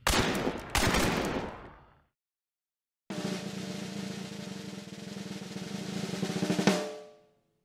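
Gunfire through a wall in the video game Hunt: Showdown: a couple of sharp shots with echoing tails, a pause, then a sustained burst of rapid fire ending in a final loud crack.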